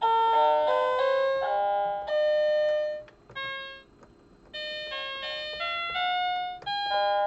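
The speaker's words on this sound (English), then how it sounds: "That was the trumpet." Trumpet voice on a Chad Valley toy electronic keyboard playing a short tune of distinct buzzy, electronic held notes in an uneven rhythm, with a brief pause midway, clear and close with no talking.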